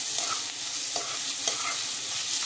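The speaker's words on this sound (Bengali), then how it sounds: "রসুন বাটাটা বেশ কিছুক্ষণ ধরে কষতে হবে" Garlic paste and fried onion sizzle steadily in a pan while being stirred, with a few soft scraping strokes of the spoon every half second or so, close and continuous with no talking.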